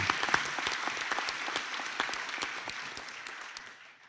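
Audience applauding graduates at a graduation ceremony, a brief burst of crowd clapping with crisp individual claps that fades out toward the end, moderately distant.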